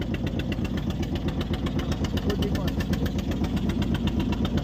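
A boat engine runs steadily with a low, pulsing throb and a constant chugging rhythm, close and loud throughout, with voices mixed into the noise.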